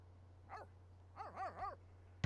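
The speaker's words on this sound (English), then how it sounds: "Soot is having another bark about something." A dog in The Sims 3 barks in short bursts, two or three quick woofs with a whimpering pitch, close and clear over a low steady hum, ending with a sharp click.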